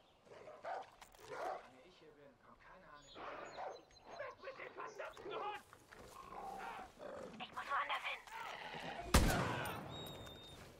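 A dog barks in the shooter game Far Cry New Dawn, short barks scattered among dense game sounds, gunfire and a voice talking throughout, with a loud sharp burst near the end.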